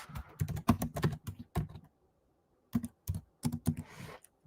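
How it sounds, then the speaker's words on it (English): Typing on a computer keyboard, quiet close-up bursts of rapid key clicks in two runs separated by a short pause, with no talking. "let me also type out this one"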